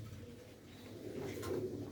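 Faint pigeon cooing, low and murmuring, rises slightly toward the end among a loft of flying pigeons, set against a steady low hum.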